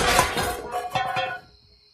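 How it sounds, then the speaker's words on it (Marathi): Kitchen utensils clink and clatter in a house in the middle of the night, a few bright metallic knocks and jangles over about a second and a half, then fading to quiet. "अकस्मात आयदनांच्या आवाजान अजयाक जाग आयली"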